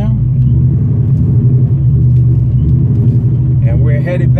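A 1999 Cobra car cruises with a steady, deep engine rumble heard from inside, with a voice briefly audible toward the end.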